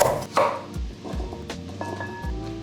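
A knife cuts carrots into angled chunks on a board, four or five distinct, close thuds spaced roughly half a second apart, with light rustling between strokes.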